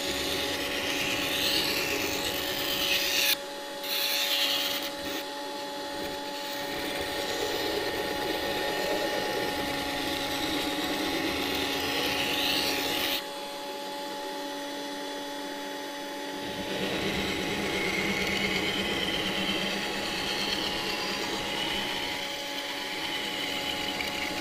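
A knife blade being sharpened on a cheap sharpening stone, with a continuous close grinding scrape broken by brief pauses under a steady background hum.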